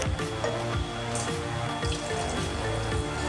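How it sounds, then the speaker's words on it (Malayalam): Water poured into cooked lentils for Kerala shallot sambar, a steady splashing, gurgling stream that stays continuous and moderately loud, with no talk over it. "അപ്പോൾ നമുക്കിതിലേക്ക് ആവശ്യത്തിനുള്ള വെള്ളം ഒഴിച്ചു കൊടുക്കാം."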